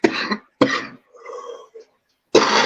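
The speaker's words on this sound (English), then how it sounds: "coughing." Harsh, close coughs in short bursts, with a brief murmured vocal sound between them.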